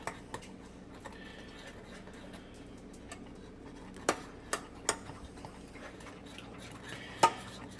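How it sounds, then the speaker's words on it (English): A thickening cheese sauce stirred in a pot, a quiet background with occasional sharp clinks of a utensil against the pot rim, spaced irregularly. "I need to keep stirring it because you don't want it to be lumpy"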